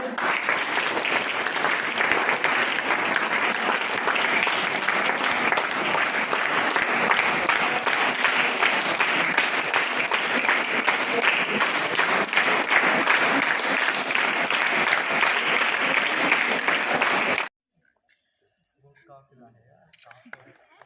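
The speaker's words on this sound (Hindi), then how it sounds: "ताली बजा दो।" Students and guests at a government inter college seminar in Mahoba district, India, applaud in a loud, sustained, even roll of clapping that cuts off abruptly, leaving near silence with faint scattered sounds.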